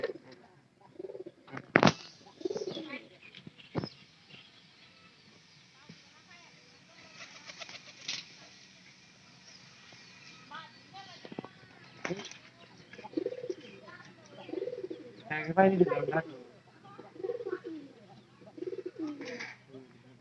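A newly acquired pigeon coos in repeated soft, throaty phrases at close range, with a few sharp wing flaps and people talking quietly between the calls.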